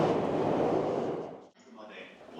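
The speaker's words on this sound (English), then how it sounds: "You can hear the train above us" Loud rumbling roar of a train passing close overhead in Tokyo, fading out partway through before a quieter rattle and hum resumes.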